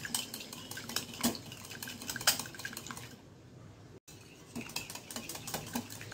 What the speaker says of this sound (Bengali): ডিমটা আমার মোটামুটি ভালোভাবে ফেটা হয়ে গেছে